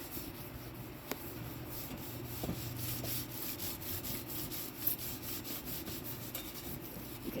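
Abrasive cleaning paste is scrubbed over motorcycle exhaust pipes in quiet, rhythmic back-and-forth rubbing strokes, close by and fairly soft, with no talk.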